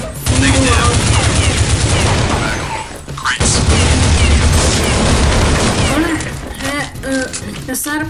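Rapid automatic gunfire in the Counter-Strike video game, loud dense bursts of shots and impacts filling the whole stretch, with a brief lull and scattered shots near the end; someone talks over it.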